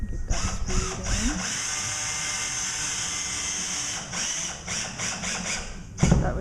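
A drill drives a medium self-drilling anchor into drywall, giving a whirring, ratcheting grind close by with several short bursts and pauses near the end.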